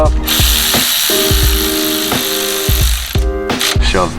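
A power tool runs on a 2JZ engine, bolting up parts in repeated short bursts, about ten or more quick rattling pulses in a row, loud and close in a workshop setting.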